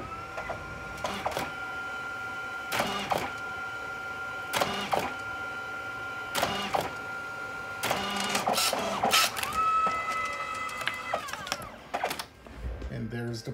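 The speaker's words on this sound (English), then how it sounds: "you're going to hear the printer go off" A photo booth printer connected to an old Canon T3 DSLR prints, with repeated mechanical bursts and whirring feed passes at close range, briefly under a person talking.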